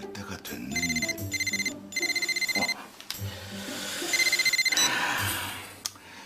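A telephone bell rings in three or four repeated bursts with short gaps between them. It sounds close and clear over a background of other room sounds, with voices faintly present.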